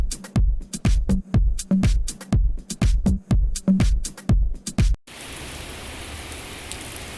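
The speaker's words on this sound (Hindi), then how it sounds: "ये तेज़ी की बारिश बरस रही है और बहुत तेज़ बारिश है" Several loud, hollow thumps knock in an uneven rhythm, then give way to a steady, heavy downpour in Mecca hissing on its own.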